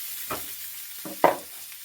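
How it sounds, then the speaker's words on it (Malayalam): Ginger, green chili, tomato and garlic sautéing in a pan give a quiet, steady sizzle with two or three soft scraping stirs, the last one louder and close, and no talking. "ഇഞ്ചി പച്ചമുളക് ഒരു തക്കാളി ഉണ്ട് വെളുത്തുള്ളി ഉണ്ട് ഇനി ഒന്ന് വഴറ്റിയെടുക്കണം"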